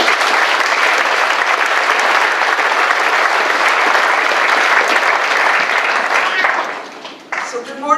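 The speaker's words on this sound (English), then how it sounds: "Please give them a big round of applause." A school auditorium audience at the 2016-17 Spruce View graduation ceremony applauds the graduating class, with loud, sustained, dense clapping that fades and trails off near the end.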